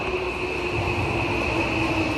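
A Tokyo Metro Hibiya Line subway train pulls into a station from the opposite direction, a steady loud rumble of wheels and motors with a sustained electric whine, constant throughout with no voices.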